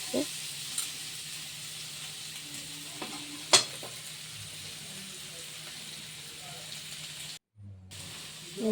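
Spiced potatoes frying in a pan with a steady broadband sizzle, stirred now and then with a few sharp scrapes and a brief clink, ending in a short break and faint background voice.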